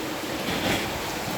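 Floodwater rushes through the streets of Hazara Town, a steady, loud wash of churning water with a windy roar and no pauses.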